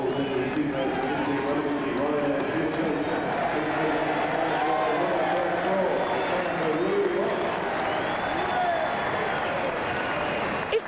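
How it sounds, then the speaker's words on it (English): A racecourse crowd at a hurdle race meeting cheers and roars as a winning horse returns, a sustained broad crowd noise with hooves clip-clopping, while a commentator talks over it throughout. "I mean, it's a resounding cheer."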